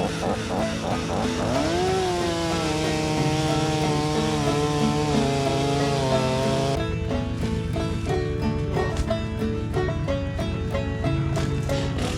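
A chainsaw runs continuously at a high buzzing pitch while cutting a path through brush to reach firewood. The engine shifts tone partway through as the cut changes, close and loud throughout.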